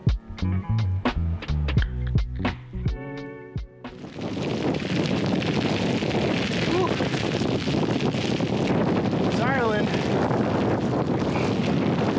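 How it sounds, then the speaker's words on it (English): A constant strong wind buffets the microphone on a coastal cycling route, a loud, unbroken roar that follows a few seconds of voices and clatter at the start. "one of those nights where there's just a constant unstopping wind"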